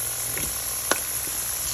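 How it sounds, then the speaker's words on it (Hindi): Nuts fry in a pan for halwa with a constant sizzle and light crackle, plus one brief stir or scrape partway through. "जो नट्स थे हमारे वो माशाल्लाह से फ्राई हो गए हैं।"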